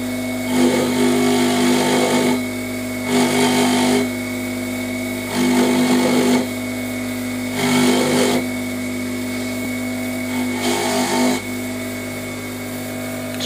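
An abrasive wheel polishes a silver cross, its steady motor whine swelling into a rougher grinding hiss in five spaced bursts as the metal is pressed against it, close and with no speech.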